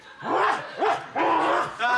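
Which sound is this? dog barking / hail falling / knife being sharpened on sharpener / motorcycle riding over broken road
dog barking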